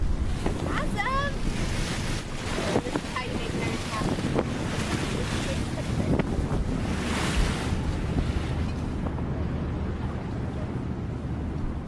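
Wind and waves batter a trawler at sea, a steady broadband roar of surf and gusting wind noise on the microphone that runs unbroken and fairly loud throughout.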